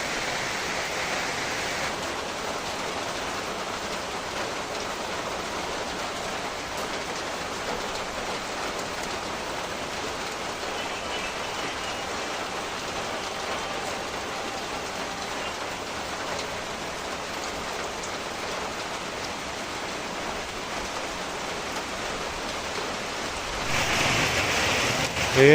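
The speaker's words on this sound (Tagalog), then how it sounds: "Malakas pa rin yung ulan. Lalong lumakas." Heavy rain pours down steadily, a dense unbroken hiss of drops on surfaces that holds even throughout and swells slightly louder near the end, with no voices.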